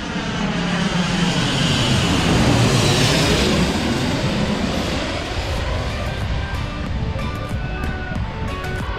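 Airliner landing at Corfu airport, a loud, continuous engine roar that swells and sweeps in pitch as the aircraft passes close overhead, then rumbles steadily as it fades.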